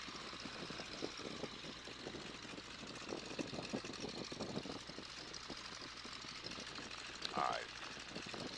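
A Boeing Stearman biplane's engine idles low and steady while back taxiing on a private field's main runway, a faint, even rumble heard from inside the aircraft.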